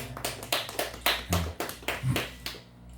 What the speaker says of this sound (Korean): 우리 한번 박수 한번 칩시다